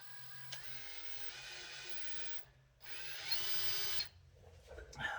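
A power drill whirs in two sustained bursts, pausing briefly between them, close and fairly loud with no talking.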